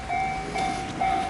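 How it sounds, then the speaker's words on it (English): A JR train passes nearby in Sabae, Japan, with a sustained whining tone and pulsing rumble that swells and recedes several times across a brief, fairly loud stretch. "This is the JR train coming too"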